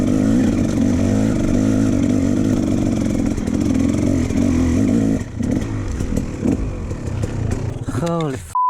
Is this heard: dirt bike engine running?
yes